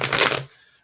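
Oracle cards riffle together in one quick, close shuffle, a dense papery flutter lasting under half a second before cutting off into near silence.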